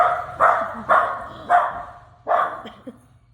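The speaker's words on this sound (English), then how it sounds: "It's the dog that's barking." A dog barks indoors, four loud close barks spaced about half a second apart, followed by a softer yip, with no talk.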